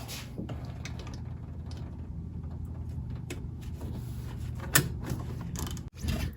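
A ratchet works a 12 mm nut off a stud on a 2003 Toyota Highlander V6 engine, giving soft repeated clicking and mechanical creaks under a steady low hum, with one sharper clank near the end.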